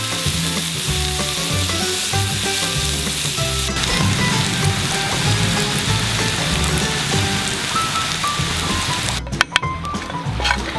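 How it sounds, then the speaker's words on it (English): Garlic and onion fry in bacon fat in a pot over a campfire, giving a loud, continuous close-up sizzle with crackling spits. A few sharp clicks or scrapes come near the end. "Fry the garlic and the onion in the bacon fat."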